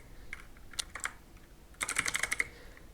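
Close computer keyboard typing while using Bigcommerce store settings, a few scattered keystrokes followed by a quick burst of rapid clicking taps, with no voice.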